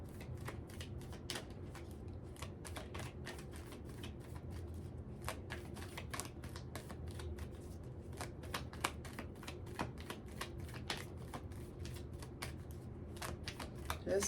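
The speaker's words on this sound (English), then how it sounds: "I'm just gonna shuffle at a natural pace" Tarot cards are shuffled in a quick run of crisp, rapid riffling taps, close and fairly quiet, with no talking.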